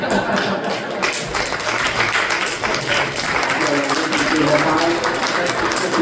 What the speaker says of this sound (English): Please stand and clap.